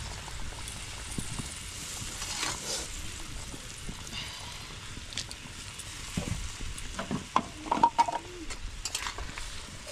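Beaten sour yogurt poured into a katla fish curry cooking in a pan, with soft bubbling and faint stirring scrapes and a few louder knocks, quiet and close.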